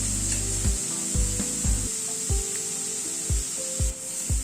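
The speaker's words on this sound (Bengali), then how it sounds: "পেঁয়াজটাকে দিয়ে একটু হালকা করে ভেজে নেব" Onion lightly frying in a pan for a vegetable curry, a steady high sizzle running throughout, broken by regular low knocks and scrapes of a spatula stirring roughly every half second.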